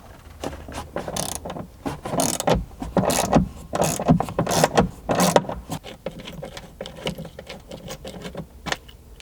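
A 15mm socket on a ratchet works loose a seatbelt bolt in an 80 Series Land Cruiser, giving repeated bursts of close, loud metallic clicking with short pauses between strokes.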